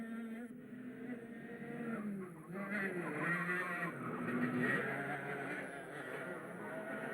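Racing kart engines on a race track in Havana at an international kart event, a buzzing, rising and falling engine whine of several karts passing at moderate distance, with a voice faintly underneath.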